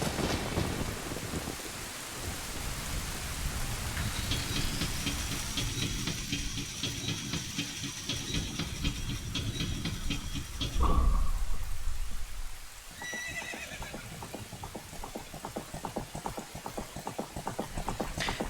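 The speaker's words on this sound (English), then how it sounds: "Storm clouds gather and the rain begins." A storm in The Legend of Zelda: Ocarina of Time brings steady heavy rain hissing throughout, and a deep thunderclap booms loudly partway through and then rolls away as the downpour continues.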